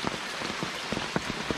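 Heavy storm rain falls steadily and close by, a dense continuous hiss with scattered louder drops spattering on a surface, with no voices.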